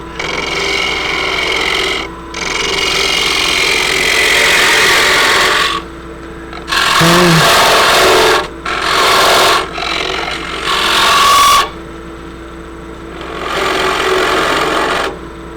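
A wood lathe turns a quaich, a shallow two-handled drinking bowl, as a gouge cuts in bursts of scraping, rasping wood noise separated by short pauses, close and fairly loud over a steady motor hum.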